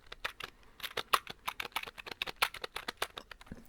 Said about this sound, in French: C'est un petit clavier qui est directement relié à mon réseau.